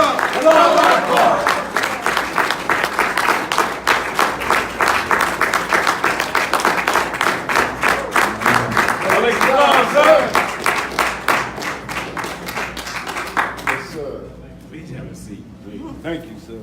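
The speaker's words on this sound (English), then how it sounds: "Bring them over with a big round of applause." A large crowd breaks into sustained applause and cheering to welcome arriving guests at a religious gathering, dense clapping with voices mixed in, loud and continuous before fading near the end.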